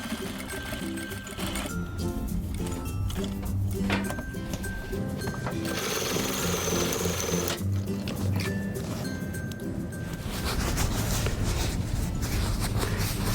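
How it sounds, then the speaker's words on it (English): A sewing machine runs in steady bursts while top stitching two rows along the pockets of a coat made from a quilt, a close, continuous mechanical whir with brief pauses between runs. "I do 2 rows of top stitching for the pockets for durability."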